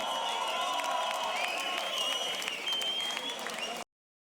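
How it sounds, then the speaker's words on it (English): Steady, dense applause from a large audience, loud and continuous for several seconds before cutting off abruptly. "one more round of applause"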